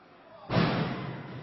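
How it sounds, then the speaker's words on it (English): Wrestlers crash onto the ring mat in a snapmare takedown, one sudden loud slam that rings out and fades over the arena's background noise. "Snapmare takedown."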